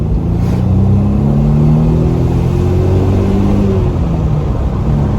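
An Audi B6 A4 with a swapped 2.7-litre twin-turbo engine pulls hard in second gear, a loud, continuous engine note rising steadily in pitch throughout.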